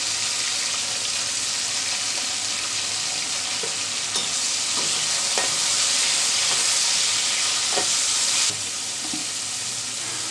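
Yardlong beans frying in a pan with a pinch of salt, giving a steady loud sizzle and hiss throughout, with a few soft stirring scrapes. The sizzle eases slightly near the end. No one speaks.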